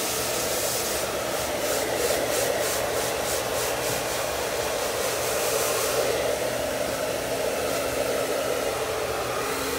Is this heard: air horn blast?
no